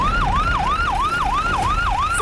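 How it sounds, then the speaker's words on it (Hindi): An emergency vehicle siren yelps loud and close in a fast, steady up-and-down wail that repeats about three times a second. "सायरन बंद कीजिए प्लीज,"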